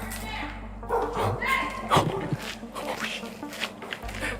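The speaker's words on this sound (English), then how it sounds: "Someone's got dogs." Dogs bark near an abandoned building, a few barks and yips at moderate distance mixed with thumps, while people talk nearby.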